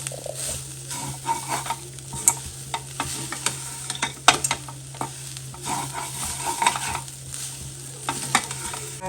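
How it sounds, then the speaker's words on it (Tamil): Grated coconut is stirred and sautéed in a pan while cooking kozhukattai filling, giving a steady soft sizzle with frequent scraping and clinking spoon strokes against the pan throughout. "அதுக்காக கொஞ்சம் வணக்கிக்கலாம் தேங்காயை."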